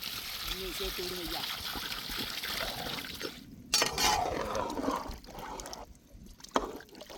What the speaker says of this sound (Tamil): இப்போ குழம்புக்கு தேவையான அளவு தண்ணி ஊற்றிக்க போகிறோம்